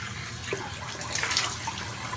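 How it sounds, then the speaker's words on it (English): Cold water runs from a bathroom tap during a shave, a steady soft splashing stream heard alone at low volume. "Cold water."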